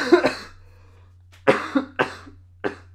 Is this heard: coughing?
yes